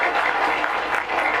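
An audience at a gathering at the Jogjakarta palace claps briefly, a soft, diffuse patter of many hands heard at a distance without voices.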